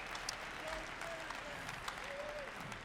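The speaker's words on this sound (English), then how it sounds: "Give them a round of applause." Steady applause from an audience at the Bitcoin 2022 conference, a dense wash of clapping filling the whole moment with a few louder claps poking through.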